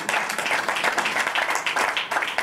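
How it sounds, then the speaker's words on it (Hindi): Dense, steady clapping from a large audience at a ghazal album launch event, loud and continuous with no voice over it. "उनके लिए एक बार जोरदार तालियां."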